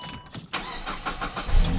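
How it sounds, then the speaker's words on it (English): A Saab B235/B205 engine starts up: a short crank, a quick catch, then it settles into a low idle close by, with no talk. "Let's go ahead, start her up, get the filter fluid going."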